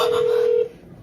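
A single steady telephone keypad tone sounds loud and clear for about half a second, then cuts off into near silence, as a number is dialed for a horror film's phone marketing campaign.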